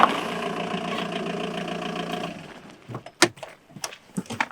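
An Audi A4 with a 1.9 diesel engine idles close by in a steady, droning hum for about two seconds, then cuts out, leaving scattered knocks and clicks.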